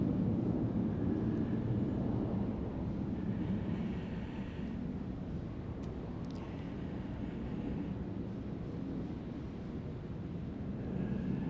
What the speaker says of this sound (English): the sound effect of this plane taking off for your story